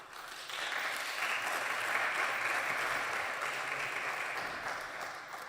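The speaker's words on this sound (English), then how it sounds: "Please give a warm applause for our key participants." Conference audience in a main auditorium applauds the keynote participants at EuroDIG 2023, a sustained, even wash of clapping that swells in after half a second and holds steady before easing slightly at the end.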